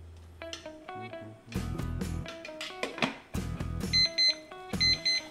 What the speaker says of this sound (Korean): 이때 이제 타이머를 꺼주시고